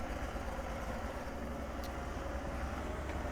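Older tractor engine in Farming Simulator 22 idling steadily after start-up, a continuous low, even rumble at moderate level with no talk.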